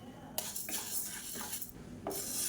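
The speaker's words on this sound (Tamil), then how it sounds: "இது வந்து நல்லா சிவந்து வர அளவுக்கு வறுத்துக்கலாம்" Urad dal is dry-roasted in a pan, with soft rattling scrapes and a few sharp bright clinks as the lentils are stirred, close but quiet.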